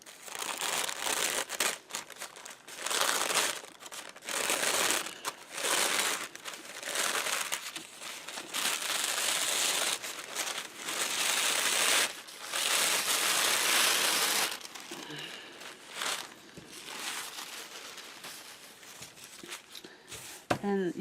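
Layers of a paper napkin are peeled apart by hand for an upcycled Easter decoration, giving close, soft, intermittent crinkling and rustling in short bursts with brief pauses.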